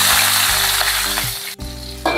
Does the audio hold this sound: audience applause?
no